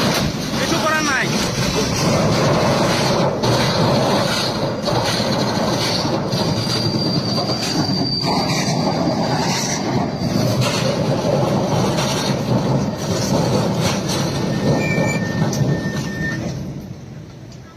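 A moving goods train rumbles loudly across Farakka Bridge, wheels clattering and squealing on the rails in a continuous heavy roar, with people talking over it.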